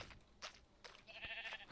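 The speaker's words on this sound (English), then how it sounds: "Sheep." A sheep bleats in a survival video game, several short bleats in a row over a faint background, with no talking.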